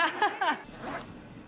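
A zipper on a computer bag is pulled in a few quick, rasping strokes close by, followed by quieter handling rustle.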